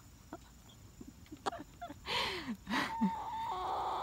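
Growing chicks clucking and peeping nearby, with scattered soft chirps and then a run of louder, rising and falling calls and squawks, close and lively with no talking.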